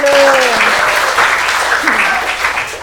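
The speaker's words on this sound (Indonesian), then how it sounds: "Oke, tepuk tangan dulu." A classroom of students clapping together in a sustained burst of applause, loud and close, lasting a few seconds as it gradually thins out.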